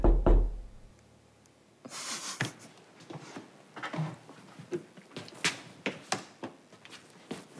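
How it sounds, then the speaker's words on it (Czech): Loud bangs on a door at night in a dark flat, heard as a series of sharp irregular thumps, close and insistent, repeating for several seconds. "Náhle se ozvou rány na dveře."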